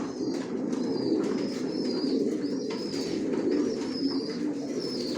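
Racing pigeons in a loft coo in a soft, continuous, overlapping murmur at close range, with faint higher chirps and small stirrings throughout.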